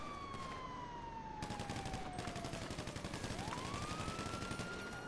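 Rapid gunshots in GTA 5 during a police roleplay, a steady stream of close shots with a wailing police siren sweeping through behind them, no voices.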